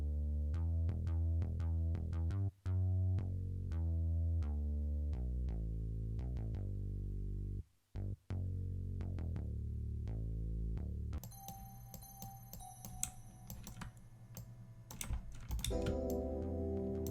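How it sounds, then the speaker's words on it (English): A crazy, bouncy synth bass pattern programmed in FL Studio for an R&B-style beat plays loud and alone, repeating in rhythmic notes with brief gaps, then changes to a denser, busier texture toward the end. "So the bass sounds like this."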